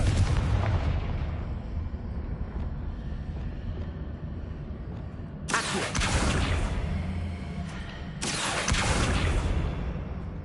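Confringo fire blast spell cast in Hogwarts Legacy, heard as two sharp, loud explosive bursts over a steady rumbling game backdrop, each blast booming and then trailing off.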